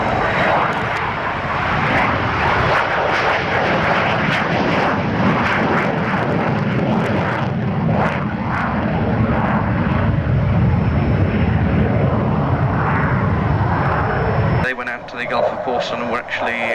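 A Buccaneer jet comes in from the right in dirty configuration at an air display, its engine roar sustained and loud throughout, while a commentator talks over it.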